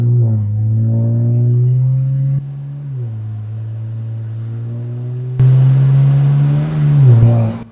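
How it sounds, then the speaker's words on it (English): A BMW 335i engine revs and climbs in pitch, drops abruptly as the automatic gearbox upshifts, then climbs again, with another louder shift near the end. "So listen to when it shifts."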